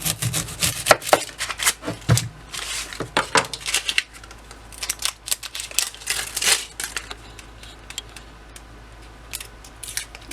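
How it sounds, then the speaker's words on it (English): A large onion being peeled makes a run of close, dry crackling and papery tearing sounds with scattered knife taps, busy and irregular, thinning out toward the end. "I wanted to show you how to peel an onion"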